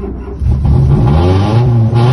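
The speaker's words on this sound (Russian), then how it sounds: "здесь вот так работает мотор" A Zeekr 001 crossover's motor revs on a race track. It is loud and close, with a steady humming drone that rises in pitch as it revs, and no other sounds compete with it.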